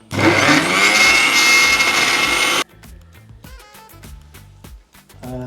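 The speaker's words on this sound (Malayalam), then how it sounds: "എന്നിട്ട് നന്നായിട്ടൊന്ന് അരച്ചെടുക്കാം." A kitchen mixer grinder blends boiled potatoes with a garlic and curry leaf paste, roaring steadily and close for about two and a half seconds before stopping, followed by quieter background music.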